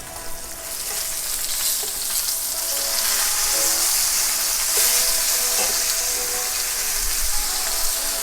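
Chicken sears in a cast iron pan for a Marsala dish, giving off a loud, steady, dense sizzle that holds unbroken from start to finish with no voices.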